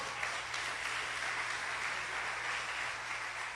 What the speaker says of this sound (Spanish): Alguien le da un aplauso al Señor.